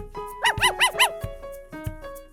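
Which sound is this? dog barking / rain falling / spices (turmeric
dog barking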